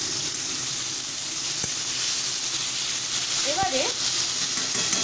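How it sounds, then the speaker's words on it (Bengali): Potatoes fry in oil on a gas stove, giving a steady, even hiss, while a voice talks briefly over it. "আলু ভাজতে বসিয়ে দিয়ে"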